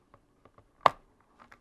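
Plastic clips on a VivoBook X412DA laptop's bottom case snapping as it is pried open: a few faint ticks and one sharp click, close up and otherwise quiet.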